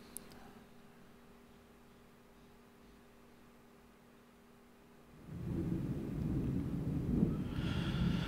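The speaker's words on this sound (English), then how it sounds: "the thunder is picking up again" Distant thunder rolls in as a low, rumbling swell that builds partway through and keeps going, faint and muffled, with no speech over it.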